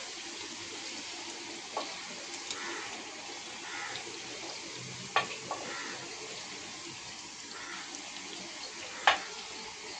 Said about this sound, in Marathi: अशा प्रकारे मी सगळ्या पुऱ्या तळून घेते.